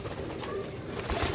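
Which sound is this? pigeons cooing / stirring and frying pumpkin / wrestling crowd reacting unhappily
pigeons cooing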